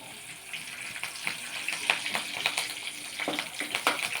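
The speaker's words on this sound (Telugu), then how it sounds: "నూనె బాగా హీట్ ఎక్కినాక వెల్లుల్లి వేసుకున్నాక కరివేపాకు" Garlic and curry leaves fry in well-heated oil in a kadai, giving a crackling sizzle with sharp pops and spits that come in irregular bursts at moderate volume. No one speaks.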